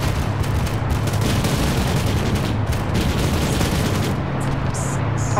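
Turret gunfire in a video game battle, a dense, continuous roar of rapid shots and booming impacts that stays loud throughout, with no voices on top.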